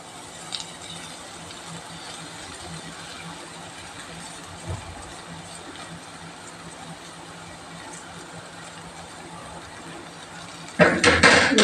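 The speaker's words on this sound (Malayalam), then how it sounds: "ഇനി നമുക്ക് നമ്മുടെ പൊരി ഇതിലേക്ക് ഇട്ട് കൊടുക്കാം." Puffed rice goes into sautéed onions in a pan, with faint scraping and light clinks of a utensil against cookware at first. A louder, crackly rush of grains tumbling and stirring comes near the end. No voices.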